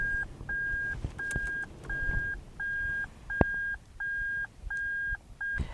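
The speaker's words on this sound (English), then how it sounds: "It just bleeps at you to let you know you're in reverse." Reverse-gear warning bleeper in a Lexus IS200 Sportcross, sounding nine evenly spaced, identical high electronic beeps in a steady repeating rhythm, fairly quiet inside the car with faint background noise.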